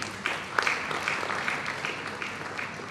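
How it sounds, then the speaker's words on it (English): Steady audience applause at a marketing and communications awards conference, a dense patter of many hands clapping at moderate volume throughout. "we should give a round of applause to the women"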